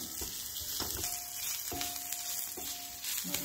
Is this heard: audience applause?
no